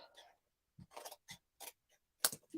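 Paper card being snipped open with scissors, several short separate cuts with brief pauses between them, close and fairly quiet.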